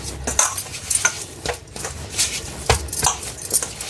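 Flour dough for bellam appalu, the jaggery sweet, being mixed by hand close by, with repeated soft slapping and scraping strokes in an uneven rhythm.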